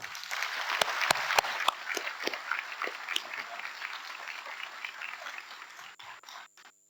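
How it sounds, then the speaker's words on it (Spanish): Applause fills a hall at the Paraguayan National Congress, steady and moderately loud for several seconds, with a few sharp louder claps near the start, before it thins out and stops. "Pido un fuerte aplauso para ello."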